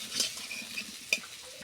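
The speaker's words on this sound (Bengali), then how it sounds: "লাল লাল করে ভেজে নিয়েছি।" Potatoes frying in a pan for a mutton kosa dish give a faint, steady sizzle with a few soft stirring scrapes and one sharper clink of a utensil partway through.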